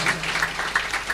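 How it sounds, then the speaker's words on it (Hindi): An audience at a religious gathering claps for the host family, a brief burst of dense, rhythmic clapping, moderately loud and close. "एक बार यजमान परिवार के लिए जोरदार तालियां"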